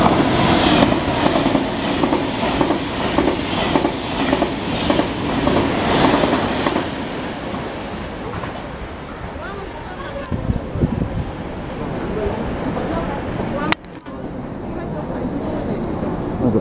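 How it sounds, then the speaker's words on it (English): A Korail fast train rushes past near Bucheon and Seoul, a loud roaring whoosh with rhythmic clickety-clack that fades after several seconds into quieter rumble, with a voice talking over it and a sharp bump near the end. "Here's the fast train."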